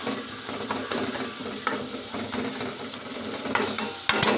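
Sardines sauté in a pan under a constant close sizzle, broken by repeated scraping and tapping strokes of a stirring utensil, with a louder knock near the end.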